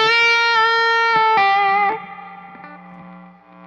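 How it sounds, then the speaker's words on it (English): An Epiphone Les Paul Special electric guitar fitted with P90 pickups, played through overdrive: a few sustained distorted chords ring out, then decay into a lingering single-coil hum. "So here's a little bit more overdrive."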